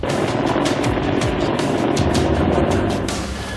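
A Chinook military helicopter lands on an air force runway, its heavy rotor roar and engine whine loud and continuous throughout, with a faint rhythmic thudding from the blades.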